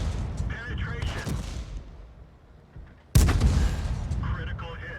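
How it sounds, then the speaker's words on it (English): A tank cannon firing high-explosive shells in the World of Tanks video game, two heavy booming blasts with a rumbling decay, one near the start and a sudden louder one midway, with game voice announcements between them. "we are firing high explosive shells"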